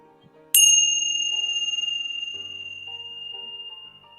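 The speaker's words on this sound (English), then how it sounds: "I'm going to use these tincture bells all the way from Tibet that resonate at the frequency of the heart." Tibetan tingsha bells struck once, a bright metallic ring with a sharp onset and a long, slowly fading shimmer of sustained high tones, heard alone and close.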